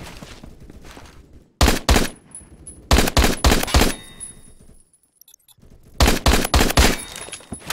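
MSG 90 sniper rifle firing in the Phantom Forces video game: loud, close shots in quick clusters of two to four, a brief pause, then another rapid volley, with no talking.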